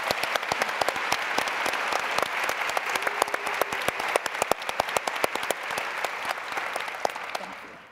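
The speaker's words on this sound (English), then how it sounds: "how about a round of applause for Betty for her service?" Audience members at a forum on caregiving applaud, with many sharp individual claps rising out of a busy wash of clapping that carries on evenly for several seconds, then tapers off at the end.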